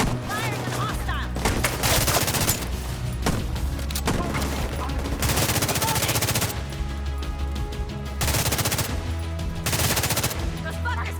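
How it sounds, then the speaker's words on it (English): Gunfire in Tom Clancy's The Division 2: loud bursts of automatic weapon fire in repeated volleys with short pauses between them, dense and close, with a voice briefly audible. "Firing on hostile."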